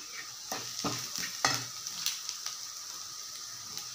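Plantain crumble for puttu being stirred in a pan, with soft repeated scraping strokes and faint sizzling close by, no voices present.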